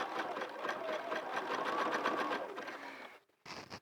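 Sewing machine stitching a hat, a steady rapid rhythmic whir running for about three seconds before a brief pause and a short restart.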